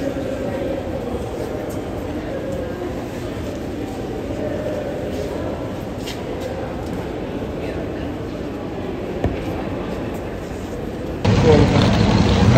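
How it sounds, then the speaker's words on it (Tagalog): The interior of a moving passenger train bound for Oulu, with a steady low rumble and muffled rolling drone throughout. A louder burst of noise comes near the end. "Ayan, pasakay na po ako sa tren pabalik po sa Oulu."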